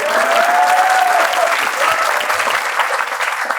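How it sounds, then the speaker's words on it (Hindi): Dense studio audience applause on a comedy talk show, loud and sustained throughout, with a faint whistle-like tone rising over it early on and the clapping thinning slightly toward the end. "हल्की पड़ गई तालियां"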